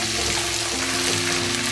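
Garlic and ginger paste stirred and frying with chicken in a pan, a brief, steady, wet sizzle close by with no voices.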